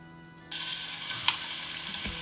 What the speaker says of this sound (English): when I'm cooking pork belly, I'm going to add about half a tablespoon of sesame oil